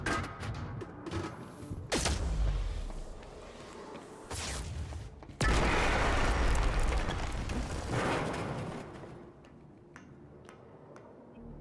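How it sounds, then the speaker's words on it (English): Explosions in the video game Quantum Break hit as sudden loud bursts with deep booms, separated by crackling debris and rumbling decay, ending in faint ticking. "Would they have heard the explosion twice?"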